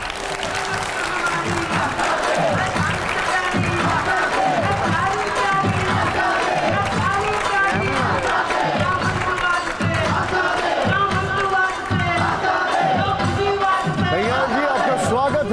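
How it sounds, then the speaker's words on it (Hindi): A studio audience at a Hindi TV news debate claps and cheers loudly and continuously as a guest politician arrives, rhythmic clapping in waves with an excited host's voice and music over the applause. "जोरदार ताली एक बार फिर से कन्हैया जी के लिए।"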